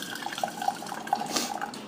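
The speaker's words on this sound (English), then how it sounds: "I'm going to pour high to cool it down a little bit." Hot tea pours from a height into a cup as a faint, continuous liquid trickle, with soft splashes and drip-like plinks scattered through it and no voices.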